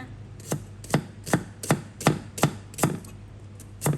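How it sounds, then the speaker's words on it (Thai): A knife slices shallots on a cutting board with eight crisp, evenly spaced chops, close and clear, with no talking. "จากนั้นก็จะซอยหอมแดงค่ะ"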